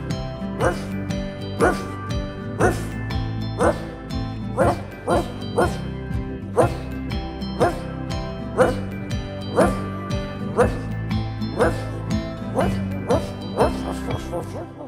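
In a French children's song about a little dog, a singing voice imitates barking with rhythmic woof sounds over a steady beat and melodic accompaniment, repeating in regular pulses throughout.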